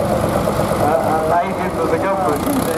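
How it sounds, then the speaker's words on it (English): A Massey Ferguson 1200 tractor engine running at a ploughing match on a farm, a steady low idling rumble heard close by under someone talking. "Now this is a very interesting tractor. This is the Massey Ferguson 1200"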